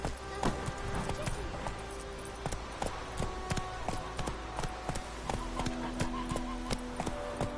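Horse hooves clip-clop in a steady galloping rhythm in The Witcher 3 game, with an occasional whinny and game music and ambience underneath.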